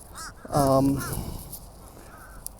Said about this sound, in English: Crows are just talking.